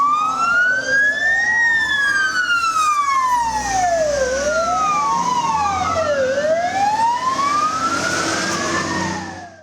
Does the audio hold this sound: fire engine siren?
yes